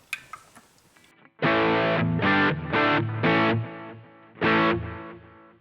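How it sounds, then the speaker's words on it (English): Electric guitar through a Boss GT-1 effects processor, with overdrive, distortion and delay, plays a few sustained chords in separate bursts, each ringing out with echoing delay repeats after a quiet start. "For pressing the overdrive and distortion, it will now have the delay on as well."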